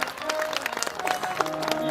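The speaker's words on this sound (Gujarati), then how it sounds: "આ પરિવારને જોરદાર તાળીઓના ગરગરાટથી આપણે વધાવીએ સાહેબ" Loud crowd applause at a devotional bhajan satsang gathering in a village, brisk uneven clapping from many hands close by, with a faint steady tone and a bit of crowd murmur beneath.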